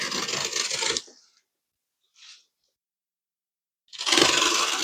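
Knife blade slicing through packing tape on a cardboard box, two loud rasping tearing strokes separated by a quiet pause with one brief faint scrape, all close up and without talking.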